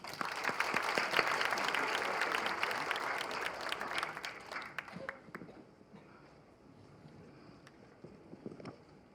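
Applause from the audience at a Incheon city officials' meeting, loud and dense at first, then thinning into scattered claps that fade out.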